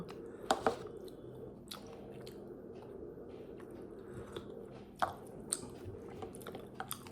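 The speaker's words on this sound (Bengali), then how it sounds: "সন্ধ্যা দিয়ে দই বড়া খাচ্ছি এখন" Someone eating dahi vada at home in the evening, close soft wet chewing and biting with a few crisp crunchy bites scattered through a quiet room, no speech.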